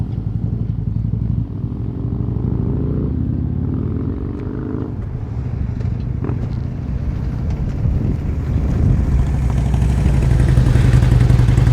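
During slow-speed riding drills, a motorcycle engine idles and putters at low revs, with small throttle blips and a gradual rise in pitch, accompanied by wind buffeting on the microphone.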